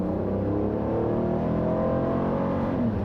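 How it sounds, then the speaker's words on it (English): Revving of the 3.6-litre naturally aspirated direct-injection V6 in a 2017 Buick LaCrosse: a steady, loud, close engine drone with rising and shifting harmonics, held throughout without pause or talk. "It's a new family of high-feature V6 engines, and it makes pretty good power, a decent noise."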